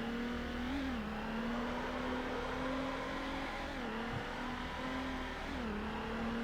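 A race car in Need for Speed Underground drones at a steady engine pitch that dips and climbs again with each gearshift, the sound continuous and fairly close.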